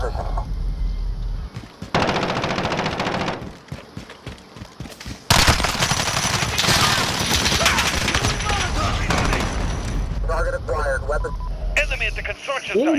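Call of Duty Modern Warfare match on the Harbor map: rapid automatic gunfire rattles in dense bursts with loud explosive blasts, while voices talk over the chaotic firefight.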